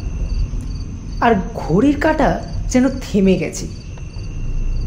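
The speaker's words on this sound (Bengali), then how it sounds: "ঝিঝির ডাক বাড়ছে" Crickets chirp steadily in a high, thin trill behind a person speaking close by, continuing faintly before and after the talk.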